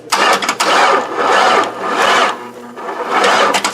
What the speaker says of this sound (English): Oh, she's turning over